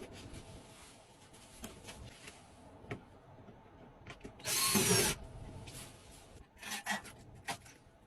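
A bolt is worked into a Fogatti air conditioner bracket: scattered close metallic scrapes and taps, a brief burst of loud rasping whir in the middle, then more clicks and rattles.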